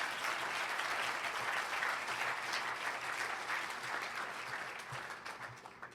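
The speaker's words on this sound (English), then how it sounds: "You can clap at that." Steady, dense applause from a graduation ceremony crowd, loud and sustained throughout, fading slightly toward the end.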